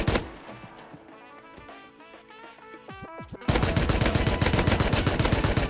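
Gunfire in the survival video game Rust during a raid, with scattered shots and clattering over the first few seconds, then a loud, sustained burst of rapid automatic fire that carries on to the end.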